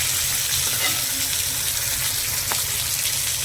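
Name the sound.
fish frying in oil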